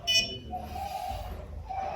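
A homemade smart alarm dumbbell giving its periodic alert, a short electronic buzz-beep near the start followed by a sustained tonal hum, close and moderately loud, with no speech.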